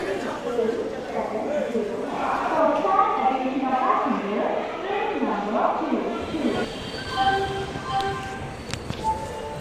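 Inside an Indian passenger train halted at Kharagpur Junction on a Chennai to Siliguri run, a steady low rumble and clatter hang around people talking nearby, with short tonal beeps and whistles late on.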